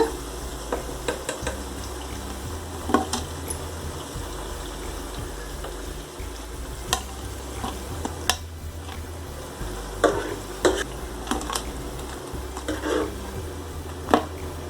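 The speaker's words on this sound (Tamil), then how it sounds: "இந்த மாதிரி எல்லா இட்லி பீஸையும் நம்ம ஃப்ரை பண்ணி எடுத்துக்கலாம்" Idli pieces fry on low flame in a pan, a steady background sizzle marked by occasional sharp scrapes and taps of a spatula.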